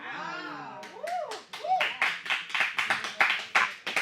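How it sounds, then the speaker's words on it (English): Scattered hand clapping breaks out after a sung note, a handful of sharp separate claps in an uneven rhythm, close and fairly loud, with a voice at the start. "I like how they took the time to applaud"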